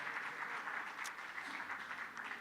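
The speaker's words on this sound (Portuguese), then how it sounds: "Un aplauso también para Jorge." Brief, faint applause from the audience at a Brazil–Chile agribusiness and sustainability forum, a soft, steady patter of distant clapping in a large hall.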